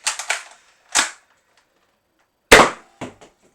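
Replica gun, an airsoft-style pump model, fired in short sharp cracks: a quick cluster at the start, a lone shot, then a louder shot followed by softer clicks, with silence between.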